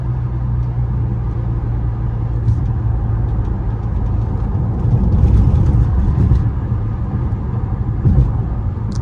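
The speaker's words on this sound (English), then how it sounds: "I'll give y'all some intake sounds, see what it sounds like" A BMW F30 328i with a stage 2+ tune drones steadily through its intake, a loud, close, continuous engine hum that swells briefly near the middle before settling back.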